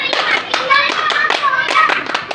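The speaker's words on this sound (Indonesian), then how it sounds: "Oke, tepuk semangat dulu." A group of children claps a quick rhythmic spirit-clap pattern in unison, sharp hand strikes close by with young voices chanting along.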